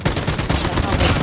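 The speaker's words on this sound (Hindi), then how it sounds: "मशीन गन आ गया।" Rapid machine gun fire from the mobile game Call of Duty Mobile sounds in loud, dense bursts that continue throughout.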